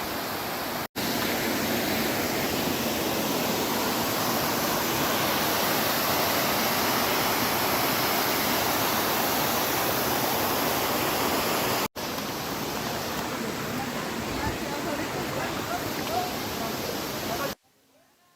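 A monsoon waterfall near Vadodara, tumbling down in steps with small pools between them, gives a loud, broad, continuous roar of rushing water that cuts out briefly once and drops to near quiet at the end.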